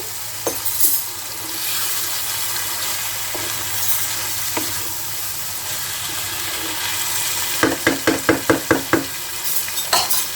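Chicken sautéing with cashew nut paste in a pan for begumoti chicken: steady frying hiss, then a quick run of rhythmic scraping stirring strokes near the end, close and fairly loud.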